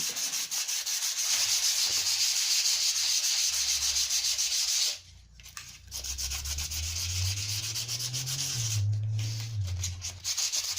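An air rifle, a CZ Air Arms S200, rubbed down with coarse P60 sandpaper before painting, making steady, close, loud rasping strokes that stop briefly twice and then resume.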